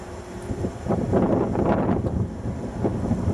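Strong wind on a bitterly cold winter day, around minus eight, roars steadily and close, a low blustery rumble buffeting the microphone for the whole stretch with no voices.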